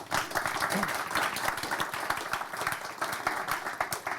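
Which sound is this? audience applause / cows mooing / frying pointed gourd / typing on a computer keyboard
audience applause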